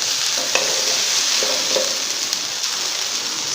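Spices mixed with yogurt frying in a pan for potato biryani give a loud, steady sizzle close by, with a few faint clinks from stirring and no voices.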